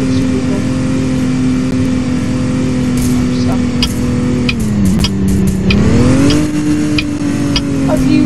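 A car engine drones steadily in a Roblox video game, holding a mid-pitched hum with a brief dip and rise in revs, while a person talks over it throughout.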